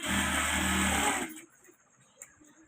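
A sewing machine stitching a fabric bag runs loud and steady with a mechanical whir for about a second, then stops, leaving faint handling noise.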